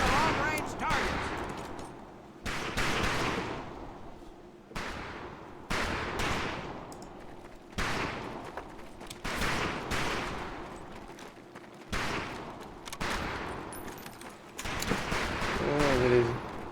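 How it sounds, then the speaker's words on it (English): Scoped rifle shots ring out at long-range targets in Medal of Honor: Pacific Assault, roughly eight loud, separate cracks spaced about two seconds apart, each trailing a short echo, with some voices underneath. "we have 2 scoped rifles available for use today. See how many hits you can get on the long-range targets"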